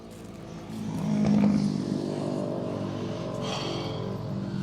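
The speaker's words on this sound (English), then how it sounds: "we're on a main road, so it's motorcycle season, and they're all obnoxiously loud" A loud motorcycle passes along a main road, its engine drone swelling and then settling into a steady roar at a moderate distance.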